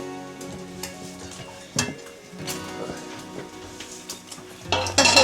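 Hot oil pops and sizzles steadily in a frying pan, with utensils stirring and clinking against the pan and a louder burst of crackling near the end, under occasional talk.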